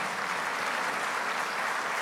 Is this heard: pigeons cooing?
no